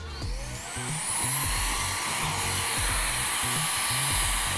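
Coolo portable hair dryer mounted in a bracket, blowing steadily with a rising whine as it spins up, a continuous close airflow hiss with a mechanical pulsing hum underneath and no talk.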